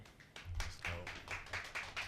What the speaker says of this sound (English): You got claps.